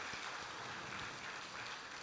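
A church congregation applauds in steady, dense clapping that carries evenly throughout at a moderate distance, with no voices on top.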